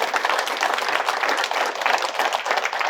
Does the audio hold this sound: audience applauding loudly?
yes